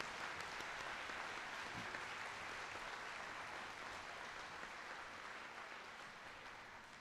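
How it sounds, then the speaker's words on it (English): A crowd applauding steadily and loudly for several seconds, a dense wash of clapping that fades slightly toward the end. "Could we please give them a big round of applause?"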